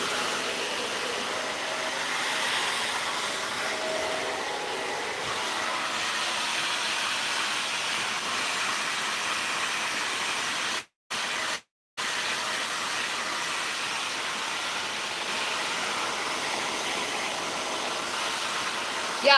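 A hair dryer fitted with a diffuser runs on high heat, giving a steady, loud broadband whoosh of air that holds nearly unbroken, cutting out twice for a moment before resuming.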